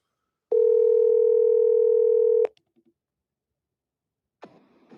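A steady telephone dial tone sounds for about two seconds while a call is being placed, then cuts off abruptly, leaving a few faint clicks before a brief rustle of handling noise.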